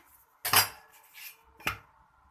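Besan roti being flipped in a pan brings two sharp metallic clinks of a utensil against the pan, close and separate, with a faint scrape between them and quiet around them.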